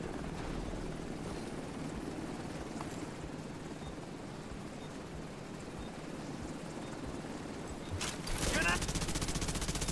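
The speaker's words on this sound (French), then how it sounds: "Hélicoptère sur site." A helicopter arrives on site in The Division 2, its rotor thrum steady under gunfire and battle noise, swelling louder near the end amid sharp bursts, with a voice speaking over it.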